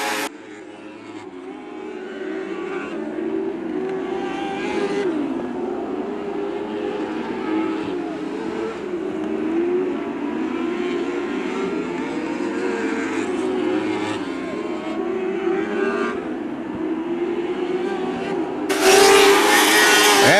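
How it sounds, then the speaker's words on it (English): Lightning sprint cars roar around the dirt oval at Macon Speedway in Illinois, a steady loud engine drone sustained throughout with rising and falling revs as the field passes, ending in a brief burst of louder noise. "Andy Baugh, car number 6, leads the way."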